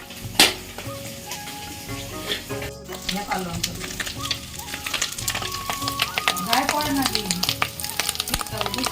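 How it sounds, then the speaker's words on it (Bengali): An egg frying in a pan sizzles and crackles steadily up close, with occasional stirring and utensil clicks, while people talk in the background. "একটা ডিম ভেজে দেবো"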